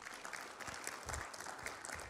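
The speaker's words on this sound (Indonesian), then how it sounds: "Tepuk tangan untuk beliau." A conference audience at a government keynote on public housing claps in a dense, fairly quiet round of applause that carries evenly throughout, with no voices standing out.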